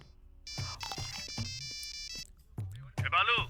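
A phone rings unanswered in a Hindi-dubbed film scene, a repeating electronic ringtone melody playing steadily for several seconds with dialogue and low music underneath.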